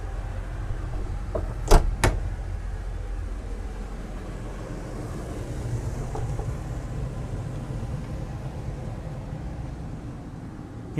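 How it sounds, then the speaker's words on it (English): A cabin door closes aboard a 112-foot Westport superyacht, two quick sharp knocks near the start followed by a steady, quiet hum of the vessel's interior. "Let's close this door up behind us."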